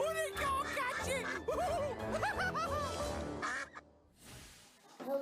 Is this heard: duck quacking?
yes